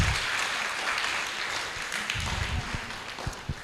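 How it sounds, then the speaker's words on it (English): Audience applause after an academic presentation at a training event in Mombasa, a steady wash of many hands clapping at moderate level, with a few sharper individual claps near the end. "give a very hearty clap to Professor Brand for the beautiful presentation"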